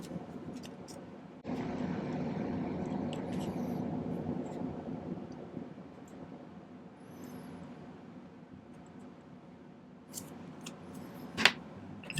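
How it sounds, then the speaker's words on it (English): Shears snip a small piece of hard silver solder at a silversmith's bench, giving one brief, crisp cut near the end over a steady low background hum. "Cut myself a little bit of hard silver solder."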